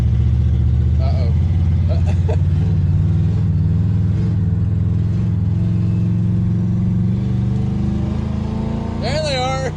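A derby-style Pontiac Phoenix, left sitting for over twenty years, drives in first gear with a loud, deep, steady engine drone. Its pitch rises near the end as people talk over it.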